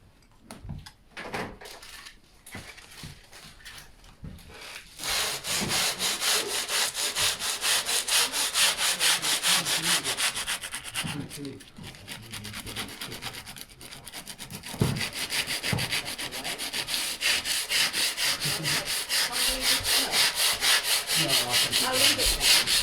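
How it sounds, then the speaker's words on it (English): Power tools working a wood edge while a kitchen is refitted: a router trims the edge, then sanding follows. Loud, steady abrasive whirring and rubbing runs nearly continuously after a few short scrapes and knocks at the start. "clean the edge up with router, then I've just sanded any snotty bits off, any bits of wood that stick out"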